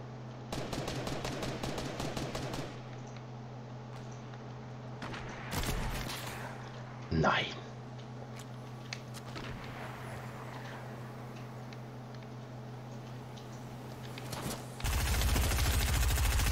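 Bursts of rapid gunfire in Fortnite, a quick rattling volley at the start followed by scattered single shots, a sweeping whoosh and a harsh burst near the end over a steady background hum.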